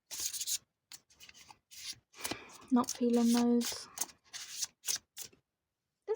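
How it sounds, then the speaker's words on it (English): A deck of tarot cards is shuffled by hand in short, irregular bursts of rubbing and riffling, with someone speaking briefly over it. "so I'm going to shuffle now."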